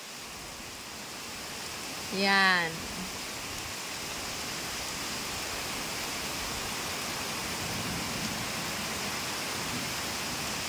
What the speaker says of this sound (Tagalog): Ang kapal ng ulan talaga.